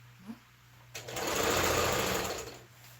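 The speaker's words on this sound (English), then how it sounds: "This thing is not sewing well. It's sewing loose stitch for me." A sewing machine stitching a man's shirt, a quiet pause with a small click, then a close, steady whirring run of about a second and a half that fades out.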